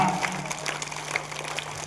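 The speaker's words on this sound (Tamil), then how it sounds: "இப்ப நான் சொல்ற வரைக்கும் நீங்க கை தட்டிக்கிட்டே இருக்கணும்" Many school students clapping together at a sports day celebration, a continuous, fairly even patter of hand claps with a steady hum underneath.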